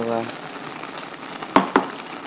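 Onion frying in a pan for homemade sloppy joes, a soft steady sizzle with two brief sharp clinks of a utensil against the pan.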